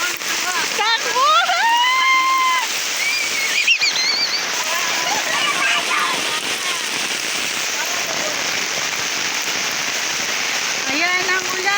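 A steady downpour of heavy rain hisses continuously across the whole stretch, with excited shouting and calls from nearby people rising over it at moments.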